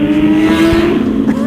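A full carbon BMW M1000RR sportbike passes by with a loud, steady high-revving engine note that holds strong and then shifts slightly as it goes, no talking.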